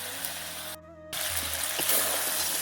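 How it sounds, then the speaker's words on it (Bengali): Water poured into a pot of braised meat cooking with released oil, a steady broadband gush after a brief pause, close and moderately loud with no talk. "তো এবার একটু জল ঢেলে দিই"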